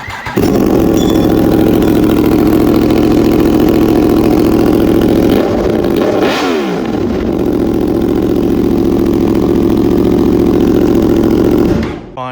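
A 2025 R1 motorcycle with an aftermarket exhaust idles with a deep, throaty, loud exhaust burble, briefly revving midway before settling back to a steady rumble and then cutting off.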